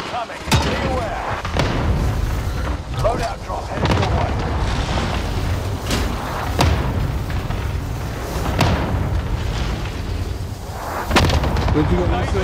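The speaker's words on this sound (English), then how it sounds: "Allied precision airstrike incoming, beware." Precision airstrike explosions from Call of Duty Warzone on Rebirth Island land as a string of heavy booms and sharp blasts, irregularly spaced and loud, mixed with gunfire and game voices talking over the chaos.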